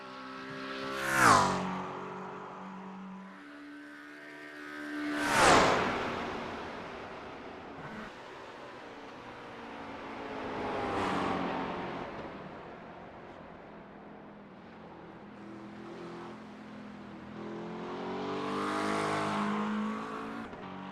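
A McLaren race car in a sim racing game at the Green Hell, its engine rising and falling through revs with sharp peaks as it accelerates and shifts, a steady loud drone throughout with no talking.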